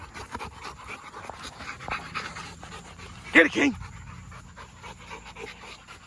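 A dog pants in quick rhythmic breaths close by while someone talks over it, with a couple of louder sharp yelps or grunts partway through, outdoors during a game with a basketball.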